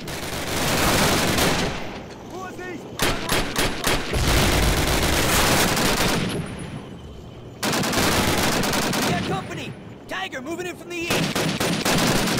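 Rapid gunfire in the Call of Duty video game: loud, dense bursts of automatic shots that rattle on for seconds at a time, with short lulls between volleys.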